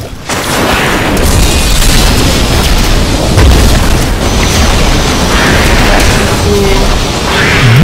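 Diablo 3 chaotic Nexus disintegrate rune explosions in the video game, a loud continuous roar of booming blasts and crackling bursts layered over steady game music, with no speech.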